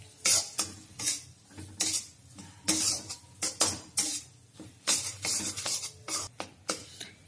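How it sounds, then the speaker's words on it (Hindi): A spoon scrapes and clanks through besan and desi ghee in a pan, loud, close, irregular strokes repeating steadily, with a faint background hiss. "अभी हम थोड़ा सा देसी घी और डाल देते हैं। उसको अच्छे से मिक्स करेंगे।"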